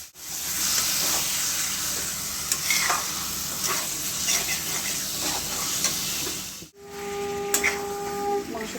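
Goat meat tipped into hot oily onion masala and stirred, a steady loud sizzle with scraping spatula strokes throughout, a brief pause near the end, then fainter frying with a few tones in the background.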